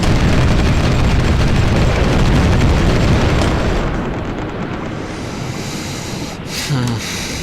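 Bombardment explosions in the strategy game Supreme Ruler Ultimate: a loud, dense rumbling barrage of booms that fades somewhat midway, followed by quieter roaring with a faint late burst.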